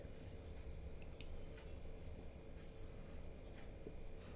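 Faint scratching and rubbing strokes of writing on a board during a chemistry lecture, heard under a steady room hiss.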